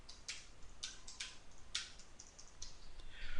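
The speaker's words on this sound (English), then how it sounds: "I'll just type it out" Quiet typing on a computer keyboard, a few sparse clicks and short bursts of keystrokes over a low background hiss.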